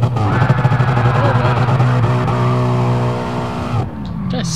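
A 650HP Ford Mustang GT launches hard in Gran Turismo Sport, its engine roaring loud and close under a sustained tire squeal that holds for several seconds before cutting off abruptly.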